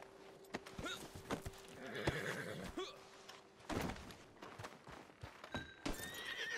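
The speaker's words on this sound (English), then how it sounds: "Get on the damn horse." Horse whinnying and neighing in the Western game Red Dead Redemption 2, with clip-clopping hooves and other game sounds around it, and a voice speaking over parts of it.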